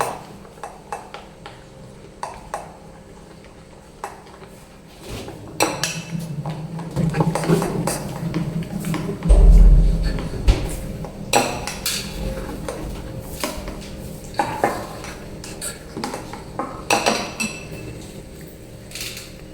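A besan batter with baking powder and soda is being mixed in a bowl, the spoon clinking and knocking against the sides in irregular bursts, with some louder thuds near the middle.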